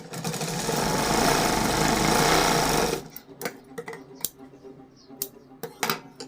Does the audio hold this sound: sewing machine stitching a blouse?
yes